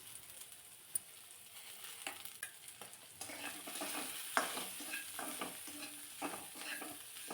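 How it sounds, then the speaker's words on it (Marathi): Vegetables sautéing over a low flame with a pinch of fine salt for a healthy ragi dish, soft sizzle with intermittent spatula scrapes and taps, growing fuller and steadier midway, quiet and close with no talking. "भाज्या बघा परतून घेताना थोडंसं बारीक मीठ घालायचं"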